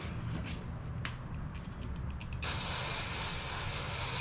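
A few short spritzes from a can of carburetor cleaner, then a continuous loud hiss of spraying onto a carburetor that runs to the end.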